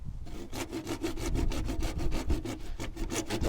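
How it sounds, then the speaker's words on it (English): A hand saw with big teeth rips through firm wood in fast, even back-and-forth strokes, loud and close, with a regular rasping rhythm and no talk. "Why is there big saws and teeth? So it can rip through firm wood."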